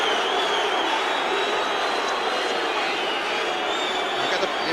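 A large football crowd at a 1987/88 First Division match between Tottenham Hotspur and Arsenal voices its disapproval of a referee's free kick, a steady broad roar of jeers and whistles heard from a distance that holds at an even level throughout.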